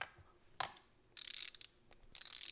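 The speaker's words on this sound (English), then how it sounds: "90 tooth ratchet. Sounds like it needs lube" A Ryobi 90-tooth 3/8-inch drive ratchet from an SAE and metric socket set clicks in short, fine bursts, dry-sounding as if it needs lube, close and fairly quiet with pauses between strokes.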